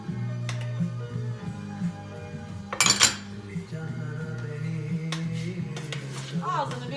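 A lid goes onto a deep frying pan holding grated tomatoes and a half spoon of tomato paste, giving one short, bright metallic clatter midway over a steady low kitchen hum.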